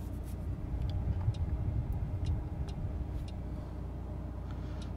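Engine of a 2019 Mercedes A-Class sedan (AMG) idling steadily after being started, a low, even hum held at moderate level with faint clicks over it.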